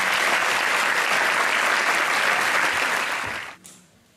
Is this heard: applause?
yes